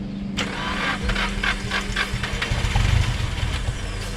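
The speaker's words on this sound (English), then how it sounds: "just keep cranking it, run it completely out of fuel." A truck engine cranks over repeatedly with the fuel plug pulled, a steady rhythmic starter churn that keeps turning without catching, loud and close.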